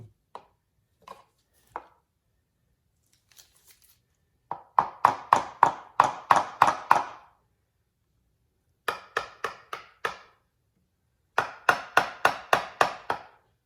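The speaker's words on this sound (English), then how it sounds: "Gently hammering it." Sharp tapping strikes as a valve cover gasket on an Acura TL or Honda Accord is gently hammered, scattered single knocks, then quick rhythmic bursts of six to eight blows, close and crisp with silence between groups.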